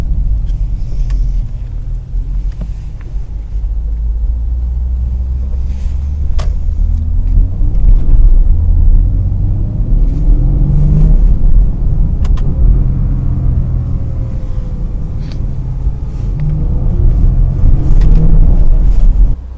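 A Porsche Panamera 4S with a V6 engine rumbles steadily while driving in regular mode, a deep, loud drone with a smooth, continuous tone and no voices.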